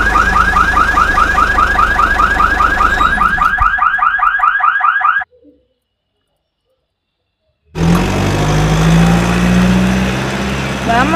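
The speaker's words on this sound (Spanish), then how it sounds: "Está bueno el sonido del pito." Horn of a Mercedes-Benz Actros 18 truck hauling a car-carrier trailer, a loud, close, steady pulsing blare that cuts off abruptly, followed by a gap of silence and then the engine rumbling.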